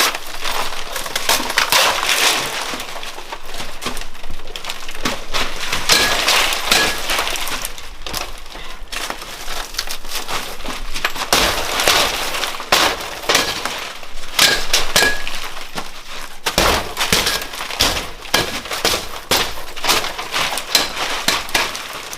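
Security-film-coated window glass held by a wet glaze attachment system is struck repeatedly in a break-in resistance test, giving loud, continuous crunching, smashing and clinking of breaking glass with dense irregular impacts throughout.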